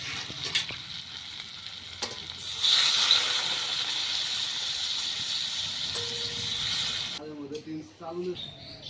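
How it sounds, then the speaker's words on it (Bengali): Water poured into a hot pan of kuche fish (swamp eel) cooking in spices, setting off a loud, steady sizzle and hiss that runs for several seconds before cutting off, with faint voice and stirring noises around it. "ভালো করে কষিয়ে নিয়েছি, এখন আমি দিয়ে দিব জল।"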